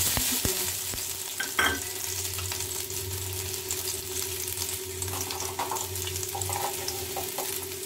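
Garlic and ginger frying in a pan, a steady, even sizzle throughout, close and moderately loud, with a brief stir or clink near the start and no talking.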